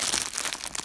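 Wrapping on a package of collectable stamp covers bought from eBay crinkles up close as it is handled, giving a brief burst of dense rustling and crackling.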